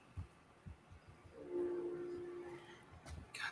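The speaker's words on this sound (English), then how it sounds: "Goddamn train again." A passing train sounds a brief horn-like tone in the distance, faint and sustained for about a second amid quiet background thumps and knocks.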